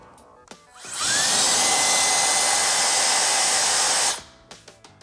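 A Wolfbox MF100 electric air duster in turbo mode spins up into a loud, steady high-pitched blowing whine with a rising motor tone, holds for about three seconds, then winds down.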